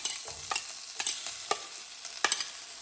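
Chopped onions fry in hot oil with curry leaves and garlic for a Rayalaseema-style pachi pulusu, a steady sizzle broken by several sharp scraping clicks as a spoon stirs the pan, close and moderately loud with no talk.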